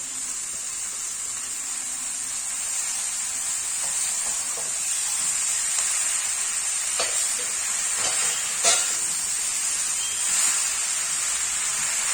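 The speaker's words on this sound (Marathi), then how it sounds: "त्यानंतर लगेच आपल्याला हे पानं फोडणीत घालायचे आहेत" Hetichi (hadga) flower leaves hitting hot tempering oil give a steady, close sizzle throughout, with a few sharper crackling bursts in the middle and no talking.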